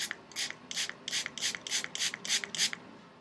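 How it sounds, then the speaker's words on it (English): Eight quick hissing bursts of curl hairspray in a steady rhythm, close by, each a short pump of mist with brief pauses between. "I'll probably spray like up to 10 things of spray here"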